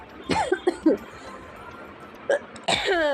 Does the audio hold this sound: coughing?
yes